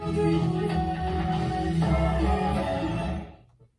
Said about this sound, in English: That just sounds like a radio jingle so much.